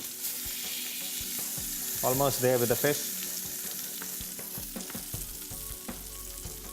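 Pollock fillets frying in a hot pan with curry leaves for an Alleppey fish curry, a steady crackling sizzle that carries on throughout, with someone speaking briefly partway through.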